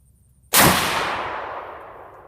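A single sharp report from an LWRC Six8 direct-impingement rifle chambered in 6.8 fired at an outdoor range, loud and close, followed by a long fading echo rolling off over about two seconds.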